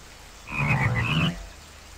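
Cartoon frogs croak in the kids' flying game Sago Mini Forest Flyer, a short burst of layered croaks in the middle of the clip with a faint rainy backdrop and no talk.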